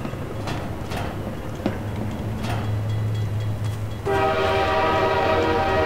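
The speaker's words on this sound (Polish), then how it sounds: "A, pociąg!" A train in the video game Half-Life 2 rumbles low with scattered clanks, then a loud sustained horn blast cuts in near the end and holds.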